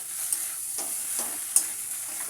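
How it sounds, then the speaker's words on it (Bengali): Mutton sizzles in a pan with mutton masala, a bright hissing fry steady throughout, broken by soft stirring scrapes and a couple of small clicks. "এখানে দিয়ে দেবো আমি মাটন মশলা, দিয়ে এটাকে আরেকটু ভালোভাবে কষিয়ে নেব"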